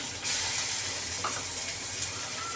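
Mustard paste sizzling in hot mustard oil for a beef curry, a loud steady frying hiss that runs unbroken the whole time with no voices.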